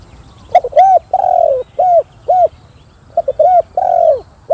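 Spotted doves coo in a series of clear, loud, close calls, short rounded notes in rhythmic bursts with brief pauses between them.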